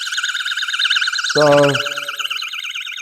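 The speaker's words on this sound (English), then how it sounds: "You need a key to stop the alarm." An anti-theft alarm on a Plus electric mountain bike (650B, 27.5 x 3.0 tires) wails with a loud, continuous warbling siren. A single spoken word briefly cuts in over the alarm partway through.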